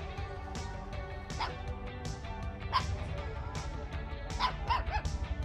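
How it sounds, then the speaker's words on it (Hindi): A puppy barks in a string of sharp, high yips at irregular intervals, close and fairly loud over a low background hum. "इतने बड़े जबर चैपड़ पे भौंक रहा है, बताओ."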